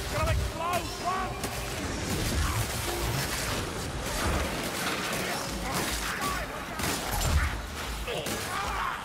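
Explosions and heavy gunfire boom through a Vermintide 2 game battle, dense continuous rumbling blasts and crashes with voices shouting over the din.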